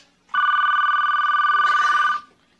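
A telephone bell rings in one continuous, loud electronic trill lasting almost two seconds, close and clear with no voices over it, in a sitcom scene.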